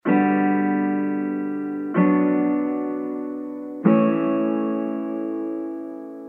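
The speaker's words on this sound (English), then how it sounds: "this is that same acoustic guitar plugin" Three strummed chords from an acoustic guitar plugin, each ringing out and slowly decaying before the next, clean and steady with no voices.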